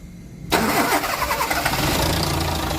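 A car engine just tuned for its distributor ignition cranks and fires abruptly after a brief quiet, settling at once into a steady, close, loud idle.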